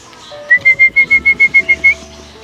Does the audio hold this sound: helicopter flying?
no